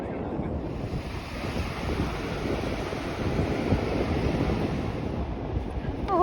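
Ocean waves roll in under strong wind, a dense continuous roar with heavy gusting buffeting the microphone, steady and loud throughout with no talking.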